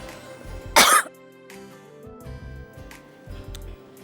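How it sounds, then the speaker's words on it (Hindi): One loud, sharp cough rings out close by, followed by quieter throat noises and a soft ticking in a quiet room. "आज बहुत खांसी आ रही है।"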